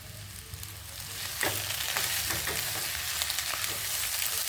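Potato and spice paste stirred and frying in a pan for vada filling, with salt added, giving a steady close sizzle broken by soft scraping stir strokes throughout.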